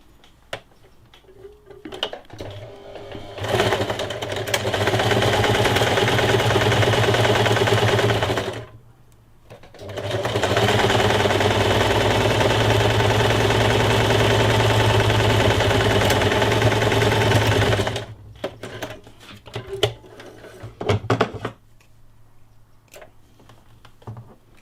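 A sewing machine stitches fabric for a face mask in two long steady runs of rapid mechanical whirring, each lasting several seconds, with quiet handling noises and short pauses between them.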